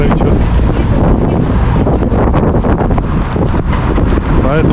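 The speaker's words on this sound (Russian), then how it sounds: "потом же будет шум ветра у тебя" Loud, buffeting wind blasting across a microphone, rumbling and gusting continuously throughout.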